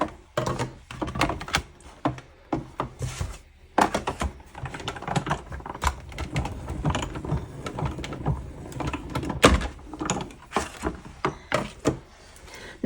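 Cardstock cranked through a hand-operated embossing machine in a Painted Trees embossing folder; a close, steady run of clicking, rattling mechanical ticks and grinding with a few sharper knocks, no voices.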